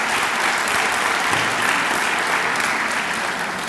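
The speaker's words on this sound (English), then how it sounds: "yes, that deserves an applause." A commencement audience breaks into sustained applause for a graduate, Mr. Polk, a dense, loud and continuous wash of many hands clapping with no pauses.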